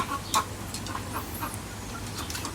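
Laying hens cluck nearby on a rooftop in short, scattered bursts over a quiet outdoor background.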